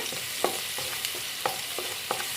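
Sliced green chillies and onions frying in a pan for chicken fried rice, with a steady sizzle broken by periodic scraping clicks of a spoon or spatula, close and alone with no voices.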